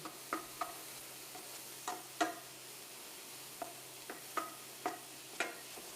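Vegetables and corn kernels cooking in a pan as omelette filling, with a low steady sizzle broken by sparse, sharp ticks and clicks of stirring, close and without talk.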